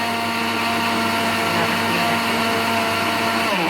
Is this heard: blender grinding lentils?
yes